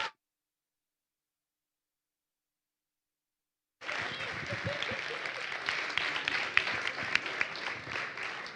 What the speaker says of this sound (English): let's just give a big round of applause once again